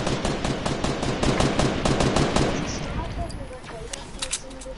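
Rapid gunfire in the Fortnite video game, a fast loud burst of automatic shots for the first few seconds, then thinning to scattered pops and game effects.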